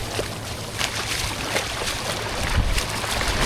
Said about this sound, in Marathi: आता या बोटीत चाललो आहे आम्ही.